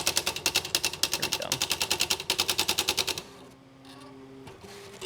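A Smith Corona SL 500 electric typewriter runs its demo program, hammering out fast, even, machine-gun-like strikes for about three seconds before it stops and leaves a quieter mechanical hum with faint clicks.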